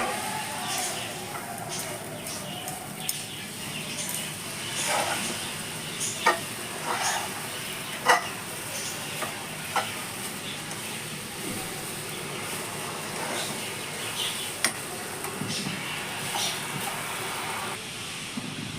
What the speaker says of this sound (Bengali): সমস্ত মশলা ও সবজিগুলোকে ভালো করে ফ্রাই করে নিচ্ছি।